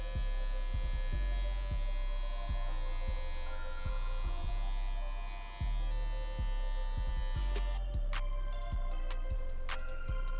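Electric hair clippers buzzing steadily during a self-administered taper haircut, the motor tone dipping briefly as the blades bite into hair in a repeated rhythm; close and fairly quiet, no talking.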